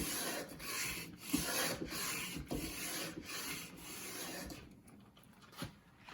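A shoulder plane cuts a rabbet along the edge of a wooden board, taking full-width shavings in a string of close, rasping strokes, each a short swish that repeats at a brisk, even rhythm.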